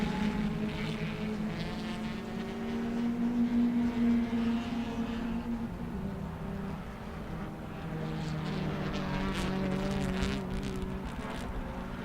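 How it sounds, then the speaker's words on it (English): Race car exhaust at the Indian National Car Racing Championship (MRF MMSC FMSCI), a steady loud engine drone with rising and falling pitch as cars pass close during a battle for position. "the exhaust sounds coming out of the car"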